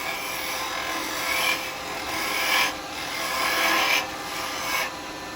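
A woodturning tool hollows out a small wooden scoop on the lathe, making a steady, close rasping scrape that swells and eases in several long strokes with no talking.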